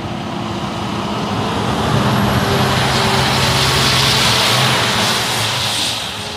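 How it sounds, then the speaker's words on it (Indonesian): A long container truck rumbles by at close range, its deep engine and road noise swelling and holding steady before easing slightly at the end, with no voices. "Wow, lihat, ada mobil truk kontainer panjang,"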